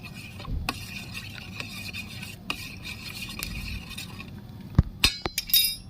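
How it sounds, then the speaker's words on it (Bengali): Spoon stirring a little salt into water in a bowl while preparing dahi vada, with light scattered clinks and taps against the dish, growing into a few sharper rings near the end. "সামান্য একটু নুন দিয়ে দিচ্ছি জলের মধ্যে ভালো করে মিশিয়ে নেব"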